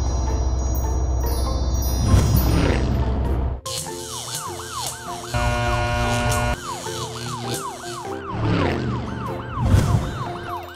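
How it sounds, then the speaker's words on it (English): A police car siren wails with a rising and falling sweep, repeating steadily and loud, over a low engine rumble and other vehicle sounds. "Police car."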